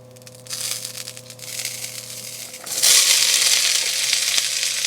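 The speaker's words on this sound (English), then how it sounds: "So to start out with sauteing the onions and garlic." Onions and garlic frying in fat in a pan, a steady sizzle that grows louder and brighter partway through as the food is moved or stirred, heard up close with no talking.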